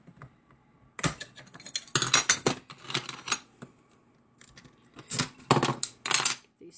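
A Toyo glass cutter scores dense glass in a series of quick, sharp scratching strokes, grouped bursts separated by short pauses, close and crisp with no speech.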